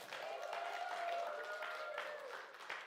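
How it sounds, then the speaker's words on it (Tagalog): Church congregation clapping and cheering together in praise, a steady wash of many hands with voices mixed through it, sustained and moderately loud for the whole stretch. "Pumalakpak sa Lord."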